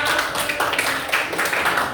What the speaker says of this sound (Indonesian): Boleh tepuk tangan untuk kelompok 5.